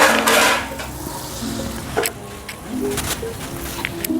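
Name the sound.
gulgule fritters frying in hot oil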